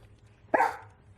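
A single short dog bark, sharp and fairly near, against a quiet low hum.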